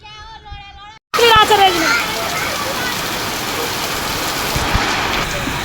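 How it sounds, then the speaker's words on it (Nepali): Steady rain falling on a rice paddy during planting, a dense broad hiss that begins abruptly after a short moment of voices and continues evenly to the end. "कत्रो पानी परेको क्या"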